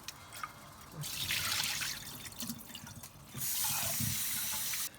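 Tap water runs steadily into a sink while rice is rinsed and stirred by hand, with splashing and trickling that swell and ease, close and fairly quiet, with no talk.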